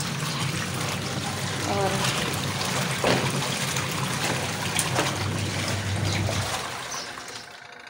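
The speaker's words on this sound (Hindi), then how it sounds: "कपड़े कुछ ज़्यादा थे तो मैंने कहा चलो आज कपड़े साफ़ हो जाते हैं" Clothes washed by hand in water, with close splashing and trickling that fades toward the end, and someone speaks briefly over it.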